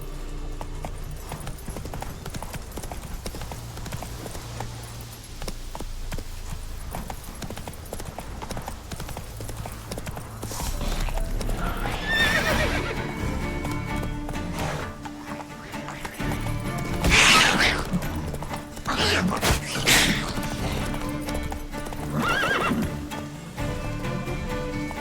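Roach, a horse in The Witcher 3, gallops with steady clip-clop hoofbeats under low in-game ambience, with louder bursts of impact and movement later on and brief quiet speech in between.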